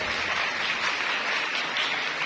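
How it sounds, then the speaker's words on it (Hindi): A church congregation applauds together, a dense, steady wash of clapping that sounds moderately close and lasts a couple of seconds without talk. "आपने ये जोरदार तालियां बजा लेंगे।"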